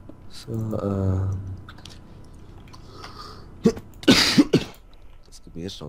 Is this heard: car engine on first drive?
no